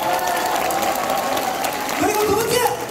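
Audience applause at a Democratic Party regional leaders' gathering in Busan, steady dense clapping filling all three seconds at an even level, with a voice rising over it toward the end.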